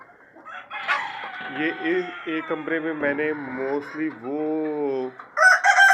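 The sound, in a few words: chickens and roosters clucking and crowing in poultry farm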